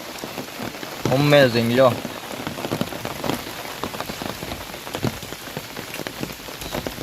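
Steady rain falls outdoors, a dense, continuous patter on surfaces throughout, with someone briefly speaking over it.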